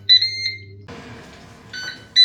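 A Ninja Speedi cooker beeps as its grilled bacon finishes: clear high electronic beeps, a short burst at the start and again near the end, with quiet kitchen noise between.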